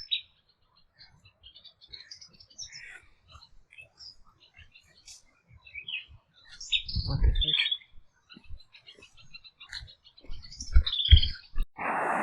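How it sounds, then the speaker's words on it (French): Bird calls in a dense Vietnamese forest: scattered high chirps and short tweets spread through the clip, fairly faint, with louder rustling and handling noise in the second half. "Mais il est magnifique ce oiseau."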